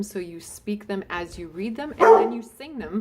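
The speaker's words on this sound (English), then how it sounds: "So that was my dog welcoming my son at the door." A dog barks at the door as a son arrives, several sharp yips and barks scattered through the clip, mixed under a person speaking steadily.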